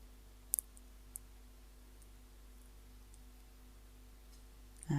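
A computer mouse button clicked twice in quick succession near the start, then a single click a moment later, faint and close against a quiet room hum.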